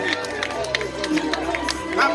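An audience claps in a brief, scattered burst of loose hand claps mixed with crowd murmur and voices, close and moderately loud over about two seconds.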